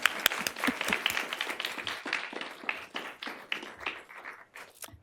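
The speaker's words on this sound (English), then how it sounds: "So one more round of applause for them." A small audience at a St. Louis League of Women Voters candidate forum claps for the candidates, a sparse, fairly quiet round of individual hand claps that can be picked out one by one and thins toward the end.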